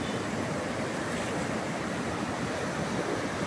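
Flooded rivers rushing together at the Trishuli and Tadi confluence in Devighat, Nuwakot, swollen by continuous rain, making a steady roar of heavy water with some wind rumble on the microphone and no talk.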